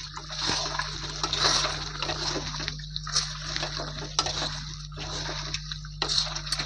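Water splashes and sloshes into meat cooking in a pan for a Bengali meat curry with green chilli paste, with potatoes added, a steady wet spattering with brief louder splashes over a low hum.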